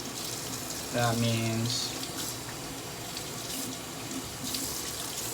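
A bathroom tap runs steadily while shaving soap lather is rinsed, a close, continuous splash of water with a brief louder gush near the start, under a man's occasional speech.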